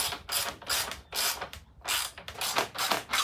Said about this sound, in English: So now we're just gonna torque those down.